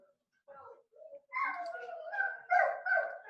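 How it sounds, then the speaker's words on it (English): A dog at home barks and whimpers in a series of short, high, whiny yelps and cries. It begins softly, then grows louder and more insistent, with a couple of stronger bursts toward the end. "there's my dog going a little crazy"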